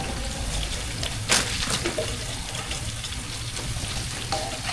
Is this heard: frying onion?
yes